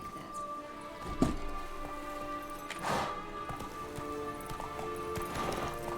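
Horse hooves clopping in The Witcher 3, a steady soft patter of steps with a couple of louder thuds, set against a low ambient game bed.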